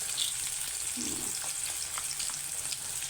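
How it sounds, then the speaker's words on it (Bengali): Onion paste sizzling in hot oil in a pan, a steady soft frying hiss with faint stirring, fairly quiet and alone. "তেল গরম হয়ে গেছে এখন পেঁয়াজ গোলা দিয়ে দিল আস্তে আস্তে"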